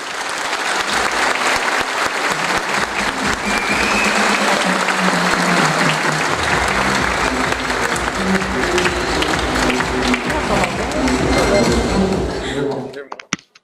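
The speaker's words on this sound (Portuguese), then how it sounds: "eu gostaria que vocês me ajudassem a receber com uma calorosa salva de palmas o nosso diretor jurídico, meu amigo Fernando Lusvari, por favor." Warm audience applause greets a legal director arriving on stage at a business talk. Loud continuous clapping builds and holds for several seconds, then thins and stops abruptly. Low murmuring and shuffling run beneath it.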